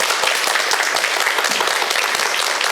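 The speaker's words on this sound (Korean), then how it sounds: "교수님 강의 박수로 청해 듣겠습니다" A studio audience at a televised lecture applauds steadily, a dense, even clatter of many hands clapping throughout.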